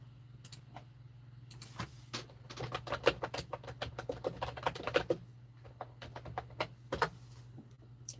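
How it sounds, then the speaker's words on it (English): Rapid clacky keystrokes on a loud purple computer keyboard with satisfying buttons, typed in irregular bursts close by against a low steady hum, no talking. "My keyboard is so loud, but it's so worth it."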